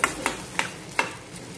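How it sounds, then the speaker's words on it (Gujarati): Okra is stirred in hot oil with garlic, four sharp scraping strokes of a spoon against the pan over a soft, steady sizzle, with no voices. "તો હવે ભીંડાને વઘારમાં એકવાર સારી રીતે મિક્સ કરી દેવાનું છે"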